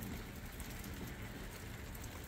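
Rain falls steadily outdoors at a nomadic house construction site, a dense, even hiss with no pauses, moderately loud throughout.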